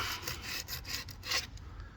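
Curb rash on an alloy wheel being sanded by hand with 60 grit sandpaper, quick rhythmic rasping strokes, close and fairly faint, with no talking.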